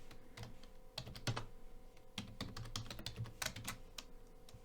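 Typing on a computer keyboard while entering text in a code editor: close, rapid bursts of key clicks in irregular clusters separated by short pauses, with no voice.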